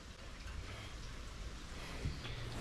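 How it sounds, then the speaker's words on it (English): Rain pours steadily onto a campsite during a hurricane, a dense, even hiss of drops heard close and alone, with a brief low thump near the end. "it's not going to stop raining"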